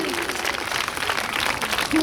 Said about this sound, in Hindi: तो जोरदार तालियां बजती रहनी चाहिए, रुकनी नहीं चाहिए